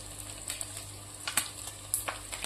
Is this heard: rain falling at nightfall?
no